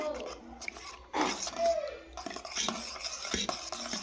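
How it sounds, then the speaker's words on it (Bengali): Cerelac baby cereal stirred in a bowl with a spoon, giving close clinks and scrapes of utensil against the dish in uneven bursts, with faint background voices. "ভালো করে গুলে নেব সেরেলাকটা"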